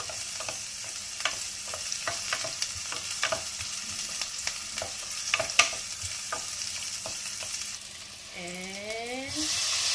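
Onions sizzling and frying in a pot for Filipino shrimp sinigang, a steady soft hiss with occasional stirring clicks and taps, a brief voice near the end.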